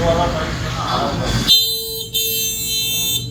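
A person talks, then a small electronic horn beeps with a flat, buzzy electric tone, pausing once briefly before sounding again, close and loud.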